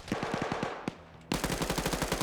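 Automatic gunfire in a PvP video game match: a fast burst of roughly eight shots, a single loud crack, a brief lull, then a second dense rapid burst, all close and loud.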